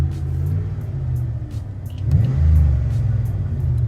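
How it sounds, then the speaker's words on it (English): A 1998 Dodge Ram 1500 pickup with a Flowmaster Force II single-exit exhaust rumbles steadily up close, then swells into a brief throaty rev partway through before settling back to a deep idle. "I mean, it's just a little Flowmaster,"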